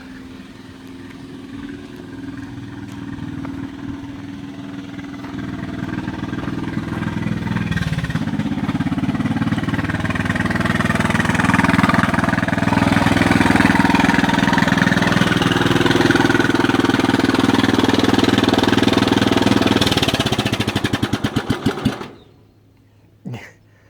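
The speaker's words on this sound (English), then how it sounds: "That's my lawnmower." A broken lawn mower engine runs steadily with a buzzing, droning tone that grows louder and rougher, then sputters and cuts out near the end.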